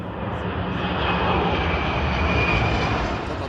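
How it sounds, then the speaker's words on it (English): Firefighting airplanes carrying fire retardant roar overhead above the Mosquito Fire near Foresthill, California, a loud, steady engine drone that holds constant throughout with no voices. "From above, planes carrying retardant have helped to stop or slow the progress of the fire"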